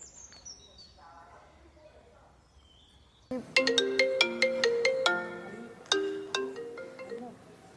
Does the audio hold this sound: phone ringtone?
yes